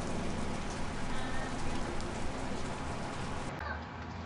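Steady rain falls, a dense hiss of drops on surfaces, close and continuous throughout.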